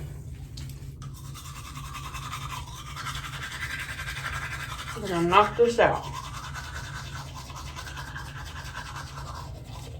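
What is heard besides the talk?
brushing teeth with a toothbrush and toothpaste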